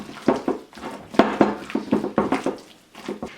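Spinach artichoke dip with garlic and lemon zest being mixed in a bowl, a run of close, irregular clinks and scrapes of a utensil against the dish, with no talking.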